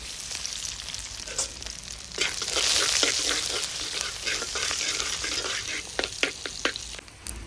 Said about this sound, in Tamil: கடுகு, அப்படியே லைட்டாக வெந்தயத்தை போட்டுக்கலாம். பாருங்கள், டபன்னு பொரியுது.